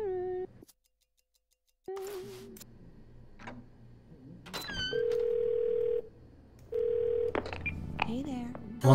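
A phone is dialed in Twelve Minutes: a dial tone, then sharp keypad beeps and two long sustained tones, mixed with game sounds and brief speech.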